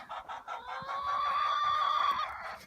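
Ameraucana chickens in a farm chicken yard give a short run of clucks, rising into a drawn-out crowing call at moderate distance.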